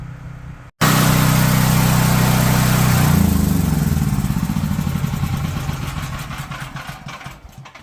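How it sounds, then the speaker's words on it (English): Dual fuel portable generator running on propane, a steady loud engine hum that starts abruptly after a short silence and carries on alone, with a shift in tone around the third second and then gradually easing. "that generator is a dual fuel also"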